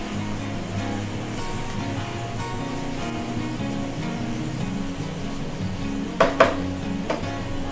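Grated bottle gourd frying in desi ghee in a pan: a steady, moderate sizzle throughout, with a couple of brief utensil clinks near the end.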